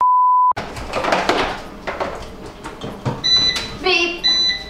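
An air fryer gives one short, clear electronic beep at the start. Kitchen clatter and people talking follow.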